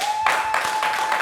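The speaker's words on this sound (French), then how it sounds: "Applaudissez-le!" An audience on a talk show claps steadily for the whole brief moment, dense, close applause with a thin steady tone running underneath.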